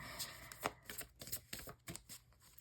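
A deck of tarot cards is shuffled loosely and sloppily at close range, quick soft riffles and slaps repeating in uneven bursts, quiet and alone.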